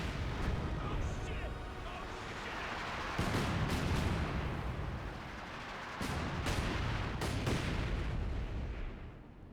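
A light artillery barrage lands in Company of Heroes 2. A steady roar of rumbling impacts is punctuated by heavier booms, one at about three seconds and another near six, over continuous battle noise.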